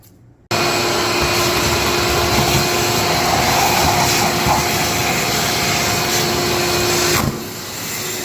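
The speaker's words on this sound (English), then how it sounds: "I guess I got to go get a vacuum to clean up all this mess." A vacuum cleaner sucks up foam insulation debris around a water heater, starting abruptly and roaring loud and steady at close range before its pitch drops near the end.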